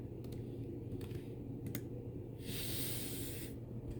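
Fast typing of a password on a computer keyboard, with rapid close key clicks running throughout over a loud, steady background hum and a brief hiss partway through.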